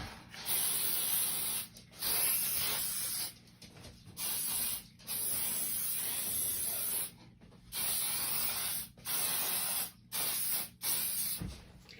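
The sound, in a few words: hairspray sprayed over a frame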